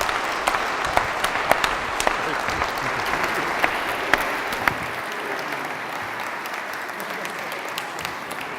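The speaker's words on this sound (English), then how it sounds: "And I have enough time for extended applause." An audience applauds continuously at the end of a talk on financial-sector innovation, a dense patter of clapping with occasional louder claps, sustained for several seconds before thinning slightly.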